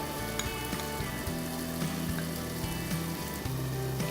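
Okra (bhindi) frying in a pan for a stuffed bharva bhindi dish, giving a steady, close sizzle that runs unbroken with no talk.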